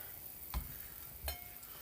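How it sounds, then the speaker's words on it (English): Faint steady bubbling hiss with two soft knocks, a covered pot of water with garlic at a rolling boil for pumpkin and chicken foot soup. "Now you can see my pot is boiling up."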